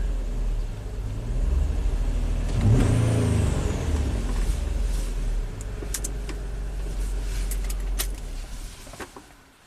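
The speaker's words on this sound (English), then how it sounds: "when we rev it, you definitely feel a misfire under load" A Nissan engine revs up and settles with uneven, stumbling bursts of a misfire under load, accompanied by light metallic clicks and rattles nearby.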